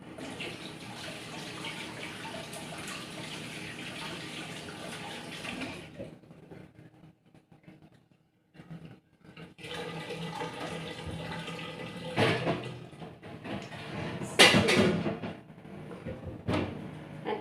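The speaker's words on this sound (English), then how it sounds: "Let me wash my hand" Tap water runs steadily into a sink for washing hands in a home kitchen while baking chocolate chip cookies, then cuts off briefly before resuming with a few louder splashes and clatters near the end.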